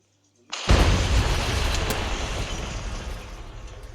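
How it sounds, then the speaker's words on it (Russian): A firecracker goes off with a sudden sharp bang after near silence, followed by a long, loud rumbling decay that slowly fades over several seconds. "Можете еще петарду."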